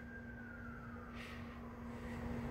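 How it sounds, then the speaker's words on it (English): A faint distant siren wailing with a slowly falling pitch under a steady electrical hum, quiet and far away. "A siren."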